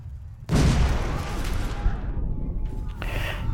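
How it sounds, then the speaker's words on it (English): A sudden heavy explosion bursts in the Orwell video game, a loud deep boom with a crackling, rumbling tail that fades over a couple of seconds, followed by faint lingering tones. "And there's an explosion."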